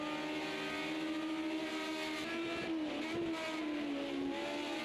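BMW 2002 race cars at Oulton Park in the rain, a steady engine drone that rises and falls as cars go through the gears, with a few higher revving swells, heard from a distance without talk.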